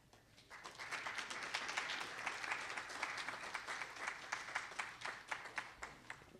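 Audience applause welcoming the author Evan Mandery to a book talk at John Jay, a dense, steady clapping from a roomful of people that swells quickly and holds for several seconds before thinning out.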